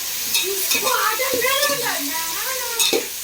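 Tomatoes sauté in a pan for coconut rice. A close, steady sizzle runs throughout with scraping stirs, while a voice talks over the cooking.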